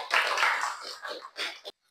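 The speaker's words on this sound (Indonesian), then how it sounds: "Tepuk tangan dulu untuk kita" A brief burst of clapping from a small group, dense at first, then thinning into a few last claps before stopping abruptly.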